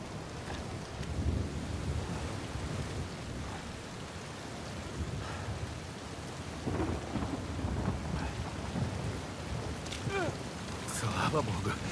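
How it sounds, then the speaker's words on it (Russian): Heavy storm in the Uncharted 4 video game: dense, steady downpour with rolling rumbles of thunder, and a voice speaks briefly over the rain. "У тебя сейчас такой грохот от ливня"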